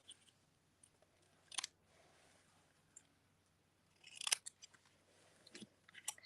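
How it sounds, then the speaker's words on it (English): Scissors cut paper sentiment strips for a stamped card, a few crisp snips in small clusters, close and fairly quiet in a still room. "now I can cut these to be a little bit smaller"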